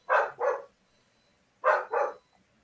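Dog barking in two pairs of sharp, loud double barks, each pair about 1.5 seconds apart, close by and clear against a quiet background with no speech.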